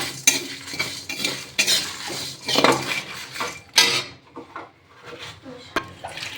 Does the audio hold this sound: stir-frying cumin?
yes